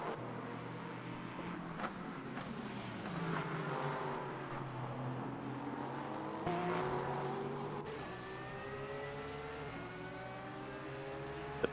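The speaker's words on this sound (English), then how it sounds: "The beautiful sound of the Porsche Flat 6 still side by side" Flat-six Porsche race cars in the Daytona 24 Hours sim race, engines droning steadily side by side with rising and falling revs and gear-change whines, close and continuous, with another prototype engine blending in behind.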